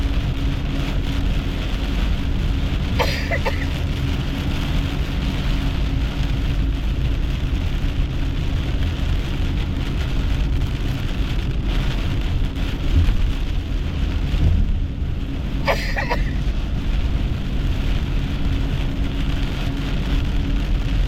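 Heavy rain pours during a tornado chase with an electric car, a dense, loud, steady roar that continues unbroken throughout with no voices.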